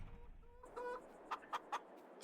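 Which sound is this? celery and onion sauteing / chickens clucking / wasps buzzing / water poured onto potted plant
chickens clucking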